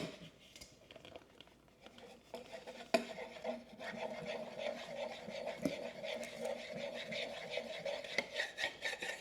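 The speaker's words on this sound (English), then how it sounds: "What I'm using right now to mix this flour is just a whisk, dough whisk." A dough whisk stirs flour into sourdough in a bowl, giving a continuous soft scraping and rubbing texture with a few sharper knocks, close and moderately quiet, with no talking.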